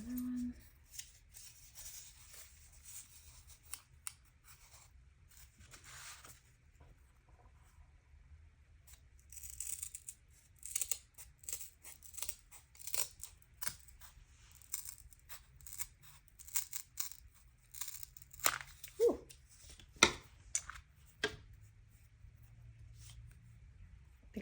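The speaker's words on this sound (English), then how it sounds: "Bigger scissors might have worked a little bit better." Scissors snip through paper close by in irregular bursts of short crisp cuts, with quieter pauses and some rustling between them.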